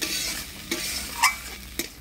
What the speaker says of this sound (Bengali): মশলাটা ভালো করে কষে নিলাম।